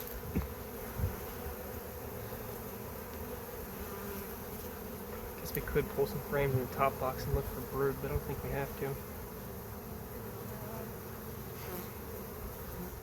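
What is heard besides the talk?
honeybees buzzing around an opened hive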